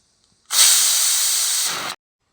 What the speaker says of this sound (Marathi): कुकरला 2 शिट्ट्या करून घ्यायच्या.